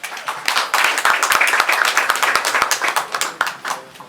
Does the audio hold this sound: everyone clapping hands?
yes